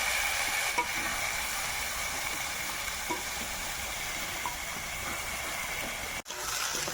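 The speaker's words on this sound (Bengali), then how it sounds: "ফোড়নে দেব গোটা জিরে, দারচিনি, এলাচ আর লবঙ্গ।" Whole cumin, cinnamon, cardamom and cloves sizzle in hot oil for a Bengali fish-head curry, a loud, continuous close frying hiss throughout, briefly broken near the end.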